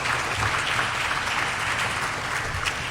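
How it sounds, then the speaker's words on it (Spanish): A church congregation applauds during a worship service, a dense, continuous burst of clapping from many hands that fills the short moment evenly and loudly. "Démosle un fuerte aplauso al Señor,"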